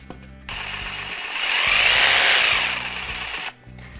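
A jigsaw with a variable speed dial cuts, starting abruptly into a loud buzzing whine that swells in the middle and then stops sharply after about three seconds.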